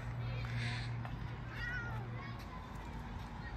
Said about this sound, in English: you're such a good cat